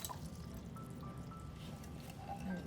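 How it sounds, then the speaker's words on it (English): Water from a batch of six cups pours steadily into a hot pan in an RV kitchen, a continuous low trickling wash with faint dripping, moderately quiet and close, with no voices. "Let's put the water in."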